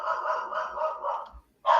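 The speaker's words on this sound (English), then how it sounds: "There goes my dog." A dog barks in a room, a close, loud burst of several quick barks run together, then a brief pause and one more sharp bark.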